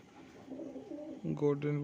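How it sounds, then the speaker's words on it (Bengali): A Golden Fulshira Not pigeon coos nearby, a soft low murmur that swells into a louder, harmonic call toward the end, with a voice speaking faintly beneath. "গোল্ডেন ফুলশিরা নট পায়রা দেখাচ্ছি"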